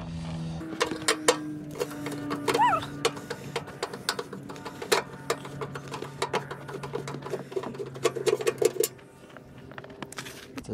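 Screws being backed out of a DeWalt DXH75KT torpedo heater casing, a quiet run of small metallic clicks, taps and ratcheting scrapes spread across several seconds, close and faint.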